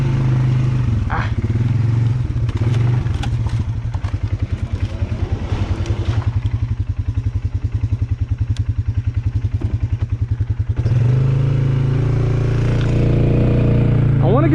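Polaris Sportsman 570 ATV engine chugging steadily as it rides through a swamp, a loud close low throb with rapid pulsing, slowing and rising again, mixed with rustling and brush noise and a voice speaking over it.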